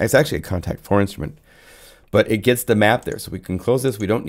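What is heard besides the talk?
None of the usual background noises is heard.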